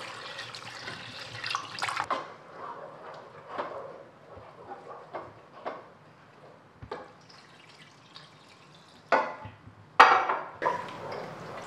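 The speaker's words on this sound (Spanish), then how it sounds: "Cuando estemos echándole la leche hay que estar moviendo constantemente." Milk is poured into croquette dough in a pan while a utensil stirs it constantly, making wet sloshing and scraping strokes with a few sharp metallic clinks, close up and without talk.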